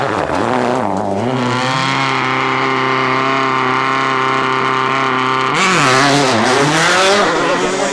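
A Citroën C4 rally car driven by Sebastian Loeb on a narrow, fast stage of the 2008 WRC Germany rally screams loudly up through the gears, its engine note rising and dropping with each quick shift.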